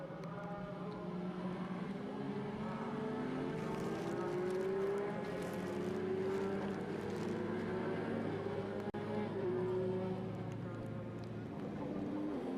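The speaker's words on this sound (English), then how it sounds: "You can hear the supercharger on that thing from about half a mile away." A supercharged Corvette pace car leads a field around a race track, its engine a continuous broad roar with rising and falling pitch sweeps, heard from a distance with a faint commentator's voice beneath.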